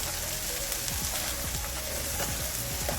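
Cauliflower fried rice with a drop of sesame oil sizzles steadily in a pan, a dense close crackle with faint stirring scrapes and no voices.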